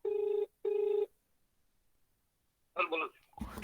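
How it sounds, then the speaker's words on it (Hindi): A phone call to an internet provider rings back twice with two long, steady tones, then goes quiet before a voice answers and a rustle follows. "एक सेकंड मैंने उस प्रोवाइडर को फोन लगाया है, देखते हैं क्या होता है।"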